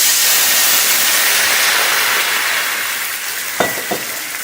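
Wine poured into a hot pan of browned shallots after searing steak sets off a steady broadband sizzle and hiss that fades slightly, with a couple of brief clanks or stirs near the end.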